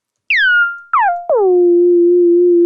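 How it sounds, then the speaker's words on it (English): Three pitched-up 808 notes from a SOTA 3-1 Operator synthesizer, each swooping downward from a bright attack and stepping lower, with the last settling into a long steady tone that carries a light vibrato. "I'll pitch it up so you can hear the vibrato at the end."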